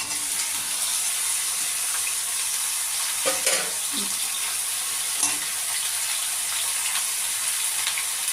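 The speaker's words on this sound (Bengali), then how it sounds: "সবজিগুলো হালকা ভাজা হয়ে গেছে আমার এবার আমি কুমড়ো ডোগা দিয়ে দিলাম" Vegetables with pumpkin shoots frying in a pan give a steady, dense sizzle throughout, with a few brief scrapes of stirring partway through and no talking.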